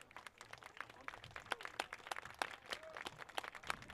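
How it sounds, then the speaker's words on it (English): Scattered applause from spectators at a New Jersey prep boys' soccer championship, Gill St. Bernard's against Montclair-Kimberley: faint, distant claps popping irregularly over quiet outdoor ambience for a few seconds. "Furlong gets a nice round of applause."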